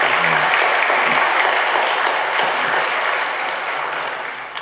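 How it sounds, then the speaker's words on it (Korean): Church congregation applauding a choir during a Sunday service, a dense, steady wash of clapping from many hands that fills the room and tapers slightly toward the end. "다시 한번 박수로 우리 격려합시다."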